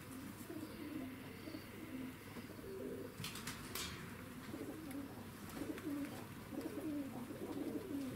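Fighting pigeons in Tbilisi, Georgia, coo steadily in soft rolling phrases close by, with brief flutters and chirps over quiet outdoor ambience.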